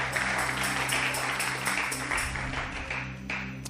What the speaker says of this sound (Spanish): Un aplauso fuerte al Dios que vive.